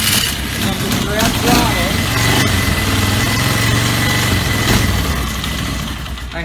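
A Polaris ATV with a fault that makes it lose spark and die at idle cranks and catches with the throttle held barely open, running close with a rough, uneven low rumble and vibrating rattle.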